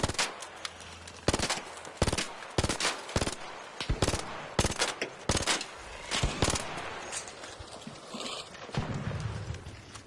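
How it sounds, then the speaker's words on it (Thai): Loud gunfire in the video game Arc Raiders crackles in rapid, irregular bursts of sharp shots with brief pauses between volleys, and no talking. "ได้เสียงปืน"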